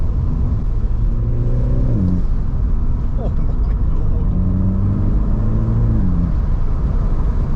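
A turbocharged F56 Mini Cooper S engine revs and accelerates with rising, falling pitch sweeps and turbo blow-off over steady road rumble, close and loud; a voice briefly exclaims.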